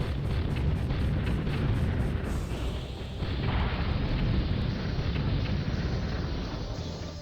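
Tank cannons and explosions rumble continuously in the Battle Tanx Global Assault video game, a dense, loud barrage of booms and bursts layered over one another with no talking.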